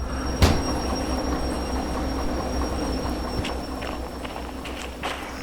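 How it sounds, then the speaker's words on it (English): A locomotive in the train-driving simulator Derail Valley rolls along with a steady low rumble, joined by sporadic metallic clicks and clanks from the wheels, with no talking. "Is this train still moving? It is."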